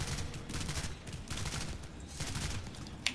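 Rapid burst-fire gunshots from Planetside 2 gameplay crackle in repeated short clusters, loud and close, with a sharp final shot at the end and no talking.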